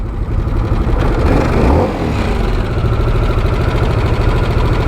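A 2024 Harley-Davidson Sportster S motorcycle engine running close by, a loud, steady low rumble with throbbing pulses and a brief swell around the second second, no talk.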